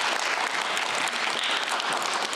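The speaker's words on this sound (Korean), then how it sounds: "박수 부탁드립니다." Audience applause at the closing of the 2018 Gwangju barrier-free film festival, steady dense clapping from a crowd, fairly close and sustained for a couple of seconds.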